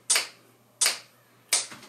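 Three sharp finger snaps ring out alone at an even pace, each a crisp, close click with a short decay, keeping time to a steady beat.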